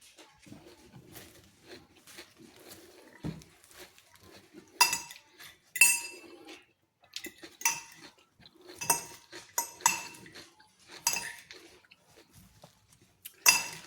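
Salted lettuce, tomato and onion taco filling being mixed in a bowl gives off scattered clinks and scrapes of a utensil, with a few sharper, louder knocks coming through in the second half.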